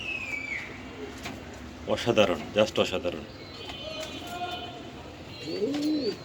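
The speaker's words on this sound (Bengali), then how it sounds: "এখানে দেখাচ্ছে এক জোড়া অরিজিনাল পাঙ্খি কবুতর" A pair of pankhi fantail pigeons coo softly at a farm, with low rounded calls heard near the start and again near the end, while someone speaks in an excited voice through the middle.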